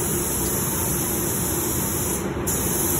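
An Iwata 1.3 spray gun lays waterborne car paint in a steady, unbroken hiss of atomized spray that runs loud and close for the full few seconds, with no voices.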